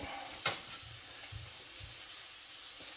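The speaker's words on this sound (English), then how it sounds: "Give it a mix." Tomato puree being mixed in a pan, a soft, low sizzling hiss with a sharp clink early on and gentle rhythmic stirring scrapes throughout.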